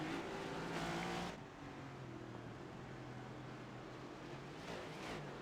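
A NASCAR stock car revs repeatedly while downshifting on the Charlotte Roval in iRacing, a high whining engine note that surges and drops, heard faintly and steadily throughout.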